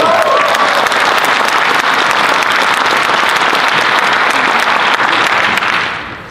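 A crowd applauds steadily at a school Shark Tank pitch event, dense sustained clapping filling the room before fading out at the end, no talk over it.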